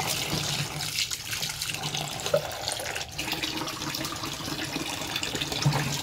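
Tap water running steadily to soak garlic in a kitchen, a continuous loud splashing flow that lasts the whole stretch with no talk.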